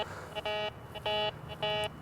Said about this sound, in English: Solid, repeatable beep. That tells me I'm interested.